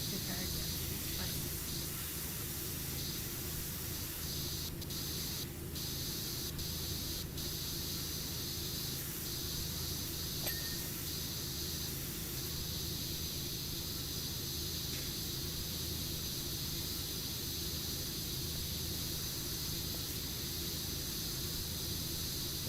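Pressure washer spraying steadily in the PowerWash Simulator video game, a continuous hissing spray that runs the whole time at moderate level with no breaks.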